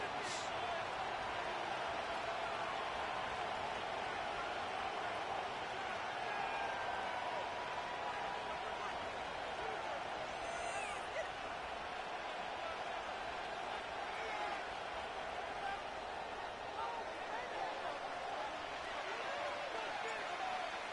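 Steady stadium crowd roar fills Ford Field in Detroit in an EA Sports NFL football game, a constant dense murmur with no breaks, under commentator speech.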